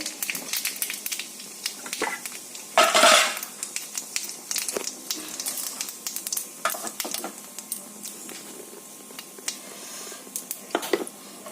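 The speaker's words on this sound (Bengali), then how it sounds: "তেলটা গরম হয়ে গেছে দিয়ে দিচ্ছি হচ্ছে শুকনো লঙ্কা একটু দিয়ে দিচ্ছি জিরে" Dry red chillies and cumin seeds hit hot oil for a tempering, setting off a sharp, loud burst of sizzling. A crackling fry follows, punctuated by scattered pops and utensil scrapes.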